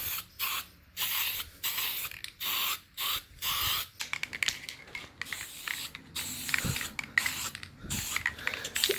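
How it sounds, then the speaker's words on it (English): An aerosol can sprays paint onto the exhaust of an Alfa Romeo 147 GTA, close and crisp. Several short hissing bursts come in an even rhythm, followed by scattered clicking and rattling handling noises. "I'm not actually very good at spray painting, but it's just an exhaust"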